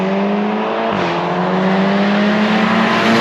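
A Megane RS250 Cup or Golf GTI Edition 30 hot hatch accelerating under medium throttle, its engine note rising in pitch and dropping sharply at a quick upshift, then climbing again, loud and close from inside the car.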